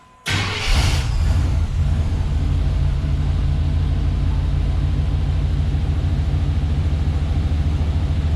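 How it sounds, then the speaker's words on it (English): Stock engine of an inexpensive used pickup truck idles with a steady, fairly quiet low rumble through its factory muffler, close by and alone after a brief sharp start. "So the truck is way too quiet. We're cutting off that muffler."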